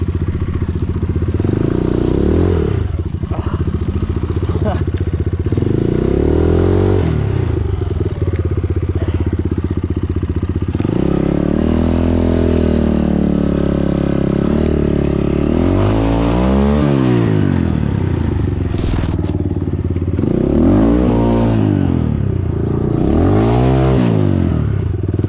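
An enduro motorcycle ridden in the rain, its engine loud and close, revving up and down repeatedly in rising and falling sweeps over a constant rumble for the whole stretch, with no talking.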